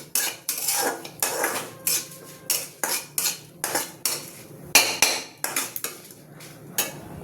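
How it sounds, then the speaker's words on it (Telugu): A utensil stirs ingredients frying in a pan for cauliflower chutney, making loud, close, repeated metallic scrapes and clinks in a steady rhythm roughly every half second, with no voices. "ఇలా జాగ్రత్తగా వేయించుకోవాలండి"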